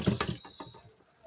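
Cold tap water rinsing cooked spaghetti in a strainer, a brief splashy gush that fades quickly to quiet trickling.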